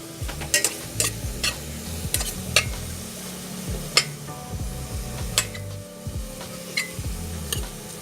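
Tomatoes fry in a pan for squid adobo, with a soft continuous sizzle under repeated scraping and clacking strokes of a utensil as they are stirred, close and fairly quiet.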